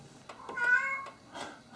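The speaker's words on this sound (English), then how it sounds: "that's our cat" A pet cat named Sprout meows twice indoors, a drawn-out call followed by a shorter one, moderately close and fairly quiet against a low room hum.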